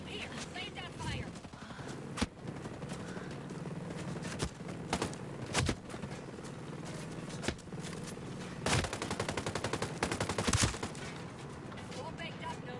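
Bursts of gunfire in the video game Ghost Recon Breakpoint, sharp shots and rattling volleys scattered over a busy game soundscape, fairly faint overall, with voices speaking between the shots.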